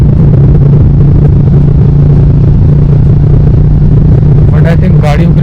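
A Royal Enfield Meteor 350 motorcycle riding along a road toward Meerut, heard as a loud, steady engine and wind rumble that fills the whole stretch, with a brief voice rising near the end.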